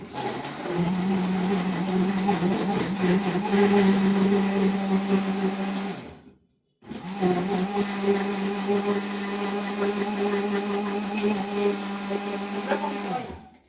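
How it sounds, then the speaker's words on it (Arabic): A blender whirs loudly and steadily in two long runs, separated by a brief stop, with its motor pitch holding even. "هنضربهم بقى في الخلاط"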